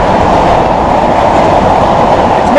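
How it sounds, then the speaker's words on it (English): Train arriving at Birmingham International station, a loud steady rumble of wheels and carriages rolling close by, with no talk. "Train just now arriving at Birmingham International."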